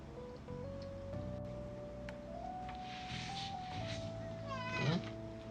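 A cat meows once, a short rising cry near the end, over steady background music.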